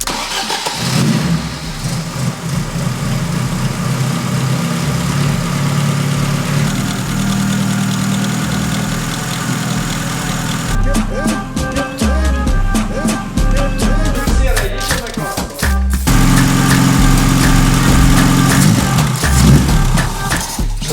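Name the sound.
car engine idling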